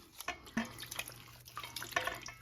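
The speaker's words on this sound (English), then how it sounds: "Rinse it again under running water." Tap water runs in a kitchen sink while food is rinsed, making a faint, uneven trickle with soft drips and splashes and a few small clinks, heard alone with no talking.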